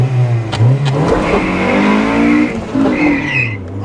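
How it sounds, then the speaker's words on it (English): A Rolls-Royce limousine engine revs hard while tires squeal and skid in a sustained burnout, loud and close, the pitch rising and falling over several seconds. "Does it do a burnout? It should."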